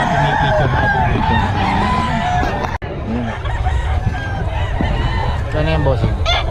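Roosters crow repeatedly at a market where fighting cocks are being sold, dense overlapping calls and clucks rising over a busy crowd, with people talking throughout.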